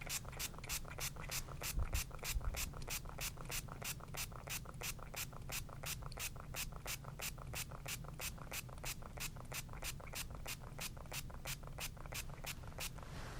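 A spray bottle fires a long, steady series of quick, evenly spaced spritzes, dozens in a row, close and crisp with no talking.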